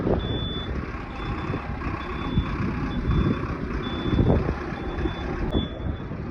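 A truck's repeated reversing beeps sound in a steady series of short tones over continuous engine rumble and road noise while the vehicle parks at a roadside temple stop.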